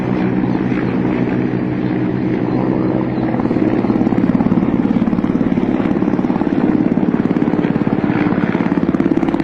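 A Russian helicopter flying over a house, giving a steady, loud rotor thrum with a fast chopping pulse that grows slightly stronger midway and continues without a break.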